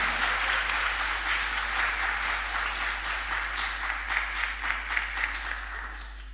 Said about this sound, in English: A round of applause for Monica.